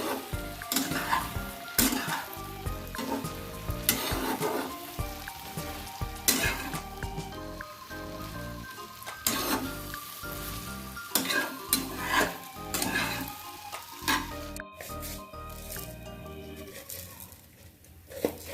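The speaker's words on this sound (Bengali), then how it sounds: "এবার ভালো করে মিক্সড করে নেব।" Bread upma being stirred in a frying pan, a spoon scraping and knocking against the metal in repeated strokes over a steady sizzle, close and moderately loud, with no talking.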